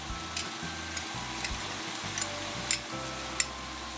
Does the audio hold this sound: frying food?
yes